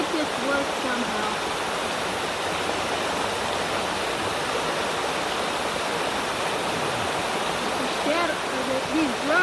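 Continuous rushing, splashing water fills the clip at a steady, fairly loud level, like running water close by.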